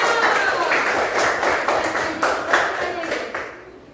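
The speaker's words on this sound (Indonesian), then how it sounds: "beri tepuk tangan untuk kelompok Soekarno" A classroom audience claps for a student group about to present, a dense patter of many hands throughout that fades out near the end.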